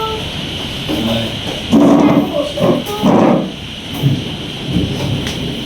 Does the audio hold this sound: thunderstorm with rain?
yes